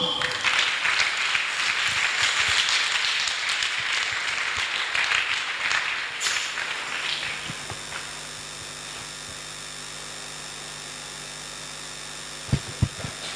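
Congregation applauding during a French-language church service on the steps to salvation, a broad wash of clapping for about six seconds that fades into a steady electrical hum, with a couple of sharp knocks near the end.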